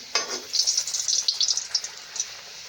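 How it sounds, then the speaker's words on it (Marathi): Flattened sweet potato gharya sizzle in hot oil, giving a close, crackling hiss that comes in bright, uneven bursts, then fades to a quieter fry. "घारे आपण आता घेणार आहे तळायला तेल पण छान गरम झालेलं आहे बघा आपलं आता मस्त आपल्याला तळून घ्यायचं आहे"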